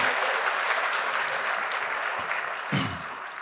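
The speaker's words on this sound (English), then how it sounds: "Okay, round of applause for that." Steady applause from an audience at a live interview event, filling the whole stretch at an even level and swelling briefly near the end.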